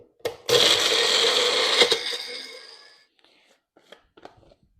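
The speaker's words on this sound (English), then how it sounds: "Get a piece of toast and put it in one of these mixer things." A food processor grinding a piece of toast into breadcrumbs: a loud, close whirring burst runs for about two and a half seconds and then dies away, followed by a few faint clicks and knocks.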